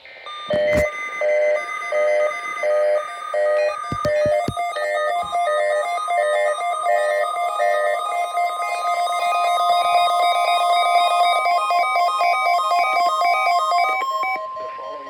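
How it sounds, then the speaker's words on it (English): A NOAA Weather Radio warning alarm tone blares as a loud, steady electronic beep with a sustained single pitch and repeating pulsed segments, running nearly the whole clip with no talk over it. "This is a test of the NOAA Weather Radio Warning Alarm Device and Emergency Alert System."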